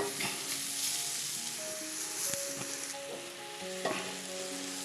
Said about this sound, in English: Next come the peppers. So now, this is going to have to simmer down a little bit.